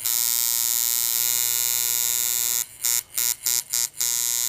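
Coil tattoo machine running after calibration, a loud steady electric buzz that keeps going, then breaks into five short bursts with brief gaps near the end, alone and close.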